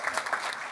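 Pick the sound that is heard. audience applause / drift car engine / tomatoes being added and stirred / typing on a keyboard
audience applause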